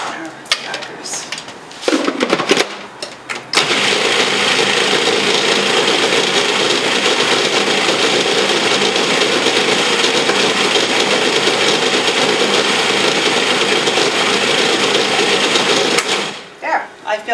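Food processor motor whirring loud and steady as it chops garlic finely into a flax and seed cracker mixture, starting after a few clunks and knocks, then running evenly before cutting off.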